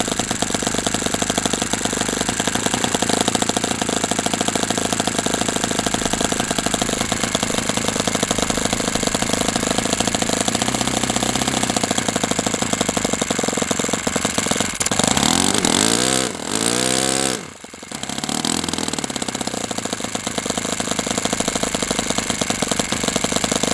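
An O.S. FS-60 model four-stroke engine idles steadily and loudly on its first run, running a little fast and rich, with a brief dip and a stutter near the end.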